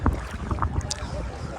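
A passenger boat carrying about ten people crosses Chilika Lake toward Kalijai, its steady low engine rumble blending with water slap and wind buffeting, with faint voices now and then.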